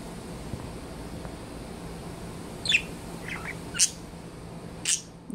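A pet bird gives three short, sharp chirps spaced about a second apart, close and fairly clear over a steady low hiss of room noise.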